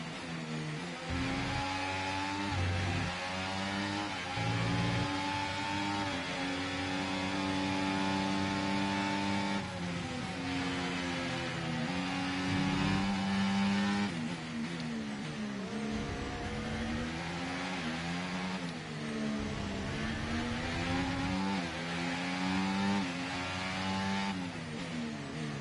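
Race cars in the F1 24 video game roar through a race as an Aston Martin overtakes, engines loud and continuous with rising and falling revs and gear changes throughout, no talk over them.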